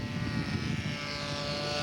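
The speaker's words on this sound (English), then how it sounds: "Now that's a low pass." A scale model propeller aircraft in a low pass at a scale aircraft show, a brief loud buzzing engine drone that swells and then eases slightly as it passes close by.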